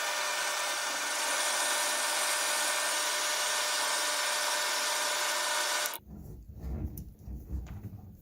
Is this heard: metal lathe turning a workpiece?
yes